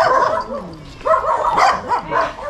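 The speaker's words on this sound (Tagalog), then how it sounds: "maraming alaga silang aso rito" Several pet dogs bark and yip in short bursts at moderate distance at a rural Filipino home, with some overlapping calls and a whimpering tone between barks.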